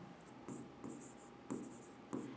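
Pen writing on paper close up, laid down in short bursts of scratchy strokes separated by brief pauses, with no talking.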